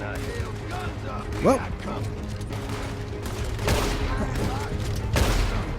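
Repeater rifle shots and gunfire ring out during an attack on stagecoach guards in Red Dead Redemption 2, several sharp reports over a steady game soundscape with a person exclaiming once.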